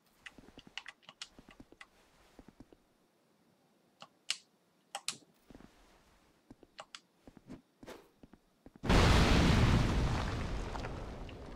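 A bomb explosion in Dark Souls 2 bursts loudly after a stretch of scattered clicks and taps, then rumbles away in a long, fading roar.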